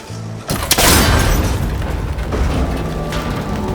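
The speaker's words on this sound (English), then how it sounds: "That connector's holding the cables together. It should break if I shoot it." Cable connector on an ancient tower shot and breaking in Horizon Forbidden West, a sudden loud impact with a booming crash and rattling debris that fades into a lingering rumble.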